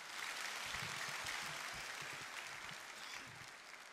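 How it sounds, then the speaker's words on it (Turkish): Audience at a political party candidate introduction meeting in Antalya applauds steadily, a dense wash of clapping from a large crowd that fills the whole stretch and fades slightly toward the end. "alkışlarınızı istiyorum onlar için"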